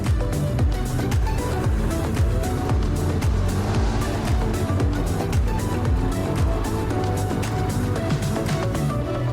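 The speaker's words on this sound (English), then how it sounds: "what better way to explore Lake Tahoe than on a snowmobile?" A snowmobile ride at Lake Tahoe, the engine droning loud and steady throughout with a rising and falling whine as the machine speeds along, close and continuous.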